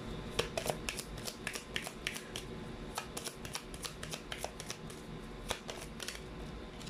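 Tarot cards shuffled and pulled from a deck, a steady run of crisp riffling snaps and flicks, close and fairly quiet, with no talking.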